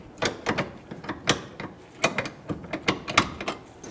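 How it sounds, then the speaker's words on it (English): A wrench works a rusty, penetrant-soaked rear lower control arm bolt on a 2006–2012 Toyota RAV4, giving a rapid series of metallic clicks and ratcheting knocks in an irregular rhythm, close and moderately loud. "Now we're just working this bolt in and out."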